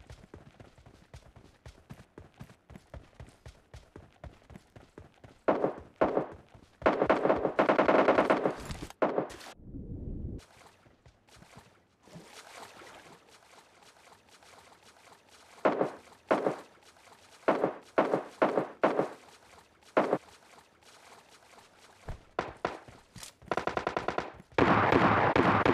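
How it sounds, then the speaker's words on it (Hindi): Gunfire in PUBG Lite comes in scattered bursts of rapid automatic shots between quieter stretches, with thuds and footstep-like steps in between, mostly near and sharp. "जब मैं पहुंचा यहाँ पे तो मुझे आए गन साउंड"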